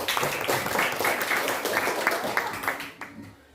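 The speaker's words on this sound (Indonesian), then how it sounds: "Tepuk tangan untuk kelompok 1" A classroom group gives applause for a student team, a steady patter of many hands clapping at close range that fades out after about three seconds.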